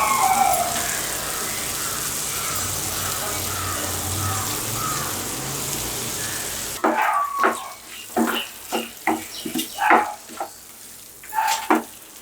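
Pepper chicken sizzling in a pan, with crushed pepper added, crackling steadily and loud, then giving way to sharper intermittent stirring clatters and spitting bursts.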